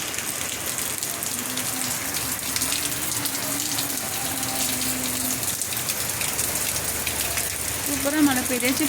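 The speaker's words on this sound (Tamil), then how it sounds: "சூப்பரா மழை பெய்யுது" Heavy rain pours down steadily on a May morning, a dense continuous hiss of drops on hard surfaces, close and loud, with faint tonal sounds and a brief voice near the end.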